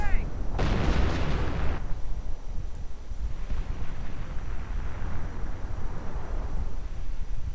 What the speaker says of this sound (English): And there we go, mortar rounds landing in the middle of everything.